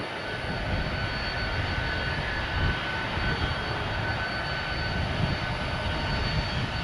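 A Southwest jet airliner departs Orlando International Airport, its engines a loud, steady roar that fills the air without letup and without voices.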